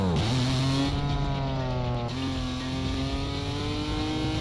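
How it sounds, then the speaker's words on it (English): A car races past in Need for Speed: Most Wanted, its engine note rising then sliding down as it blows by close and loud. A steady engine drone fills the rest, with no talking. "Vehicle just blew by me."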